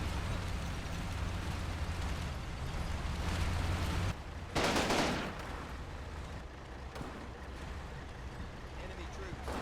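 Half-track machine gun fire in the Combat Mission: Battle for Normandy video game, a dense, steady battlefield rumble with a sharp loud burst of gunfire near the middle before settling back to a lower din.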